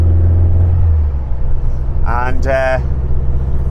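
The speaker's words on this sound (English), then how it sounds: "we're motoring along anyway now, so it's an hour journey, and the car is driving all right" A Volkswagen Beetle, half-finished and with a troublesome idle jet, drives along a road on a long journey, its engine and road rumble steady and close throughout, with a brief spoken word partway through.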